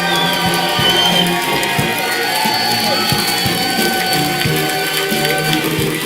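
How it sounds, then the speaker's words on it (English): A live audience at a Clash Royale esports tournament in Helsinki applauds and cheers its champion: a sustained wash of clapping and crowd noise with scattered whoops, loud and continuous throughout. "Guys, please, can I get a round of applause for your champion?"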